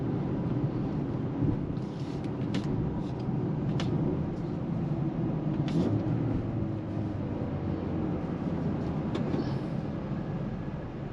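A 2025 Mercedes-AMG GLA 35 SUV on the road, heard as a steady low engine and road rumble from inside the cabin, continuous and fairly loud, with a few faint clicks and no talking.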